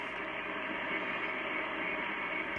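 Static hiss from a Drake TR4 receiver on a 240-foot long wire antenna, a steady, dense band-limited roar of noise with no signal or voices breaking through.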